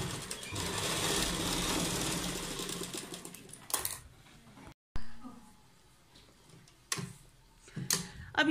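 A sewing machine stitches fabric for palazzo pants trimmed with potli buttons. It whirs in a steady run that slows and stops, followed by a few short bursts of stitching, with a person talking nearby.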